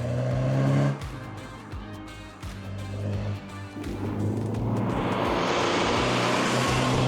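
Porsche 944 on a racetrack, its engine note droning and shifting as it passes, building into a loud rushing wash of noise toward the end.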